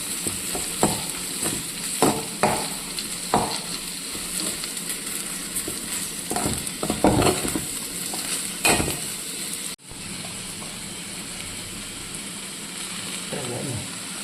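Spice powders, turmeric among them, being stirred and heated in a pan for an okra mappas, with scraping spoon strokes over a soft steady sizzle; the scraping stops near the end, leaving a quieter hiss.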